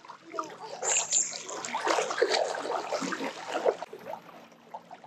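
Feet wade through shallow water outdoors, making soft, continuous splashes and sloshes over several seconds. The splashing is fairly quiet and close, with a brief pause near the end.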